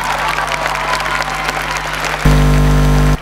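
Loud crowd applause for Luana, a young singer, at the FESPAL 2022 live festival in San Javier, a dense steady clatter of many hands that cuts off into a strong low electrical hum.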